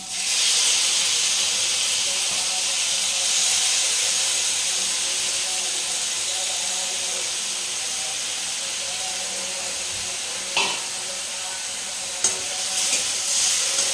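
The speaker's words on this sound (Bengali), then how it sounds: "আদা জিরা আর কাঁচা লঙ্কা বাটাটা এখন দিয়ে দেবো।" A paste of ginger, cumin and green chili sizzles steadily in a hot pan, with a bright, constant frying hiss throughout and a couple of light utensil clinks near the end.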